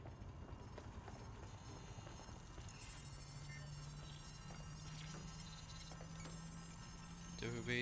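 A phone rings in the Watch Dogs Legion video game, its repeated electronic ring sitting over steady game ambience and background hum; no one speaks.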